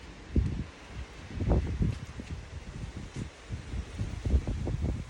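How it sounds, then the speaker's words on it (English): Wind blowing through garden trees, soft gusty rustling of leaves that swells and fades in irregular waves, faint and fairly close. "I just want you to hear the wind."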